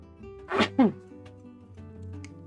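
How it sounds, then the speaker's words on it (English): A single human sneeze, short and sharp with a quick second burst, heard fairly close against a faint steady background hum. "Sneezing."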